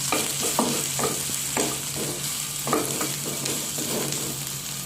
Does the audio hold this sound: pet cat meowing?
no